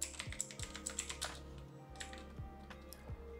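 Fingers type on a computer keyboard, a quick, irregular run of close, light key clicks with a short pause partway through, over a faint steady electronic hum and no talking.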